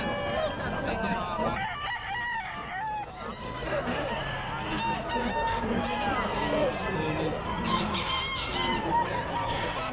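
A White Kelso rooster crows loudly and repeatedly at a busy pet market, with other fowl clucking and honking around it and people talking in the background.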